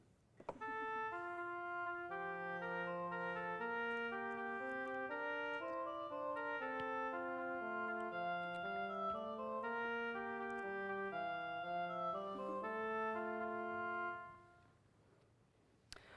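Synthesized MIDI music plays alone, a simple melody over moving bass notes in steady rhythm, ending with a fade.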